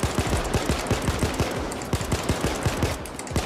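Rapid bursts of automatic gunfire from a Payday 2 heist shootout, loud and close, crackling in dense repeated volleys with no pause across the whole stretch.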